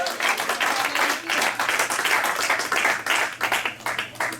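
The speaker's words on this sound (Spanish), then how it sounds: "Denle fuertes aplausos al Señor" A church congregation gives loud, energetic applause during a sermon, a dense, continuous burst of many hands clapping close and full, pulsing slightly in rhythm throughout.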